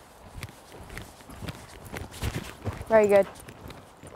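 Pony hooves canter over a 138 cm showjumping course, a few soft rhythmic thuds under a coach's spoken instructions, with a brief tonal whinny-like burst near the end.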